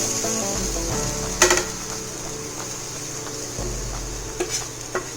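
Onions sautéing in a pan for Indian-style masala pasta, a steady low sizzle with a few soft clinks of a spoon against the pan.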